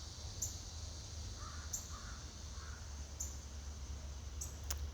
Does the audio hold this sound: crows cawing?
yes